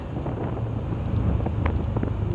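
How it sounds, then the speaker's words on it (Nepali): Wind rushes into a helmet as a motorbike rides slowly, a loud, constant low roar and buffeting right at the ears with no talk. "ओहो हावा आयो"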